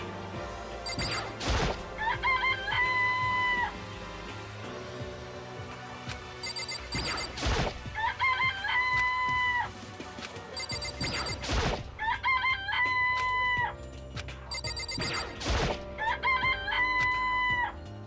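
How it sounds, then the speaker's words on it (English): Chickens cluck and roosters crow in a chicken coop in the video game Danganronpa. Loud, repeated cock-a-doodle-doo calls recur every few seconds over busy clucking, punctuated by sharp crash-like bursts. "Look at all those chickens."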